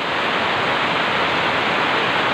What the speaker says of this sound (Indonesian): posisi saat ini pengambilan video ini sedang hujan deras